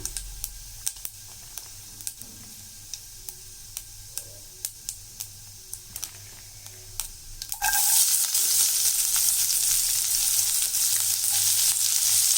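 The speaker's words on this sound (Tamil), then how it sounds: "இது நல்லா பொரிஞ்ச உடனே நம்ம கட் பண்ணி வச்ச வெங்காயம் போட்டுடலாம்." Chopped onion dropped into hot oil already crackling with cumin and mustard seeds: sparse sharp pops give way to a sudden loud, steady sizzle that fills the rest, close by with no talk.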